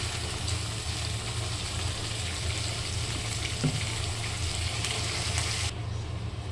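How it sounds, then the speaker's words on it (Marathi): Freshly washed mixed vegetables for a Bhogi vegetable dish go into a hot pan, producing a steady, close, broad sizzle that holds evenly throughout, then drops off slightly at the very end. "चला आपण आता या सगळ्या भाज्या टाकून घेऊयात"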